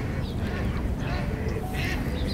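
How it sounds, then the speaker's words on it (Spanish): Ducks quacking outdoors in a busy, continuous chorus, with people talking over the calls. "Mira todos los patos saliendo."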